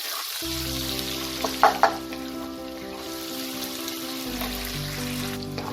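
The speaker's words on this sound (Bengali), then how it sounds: "পেঁয়াজটাকে আমি হালকা ব্রাউন করেও ভেজে নেব, খুব বেশি লাল করব না।" Chopped onions sizzle in hot oil in a pan for a Bengali mutton curry, a steady frying hiss with a few sharp clinks of stirring partway through.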